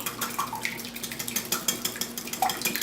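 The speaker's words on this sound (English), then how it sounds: "we're going to beat them all together using a whisk" Metal whisk beating cake batter for a microwave cinnamon cake in a bowl, a run of quick, irregular clinks and wet taps against the sides, close and fairly soft.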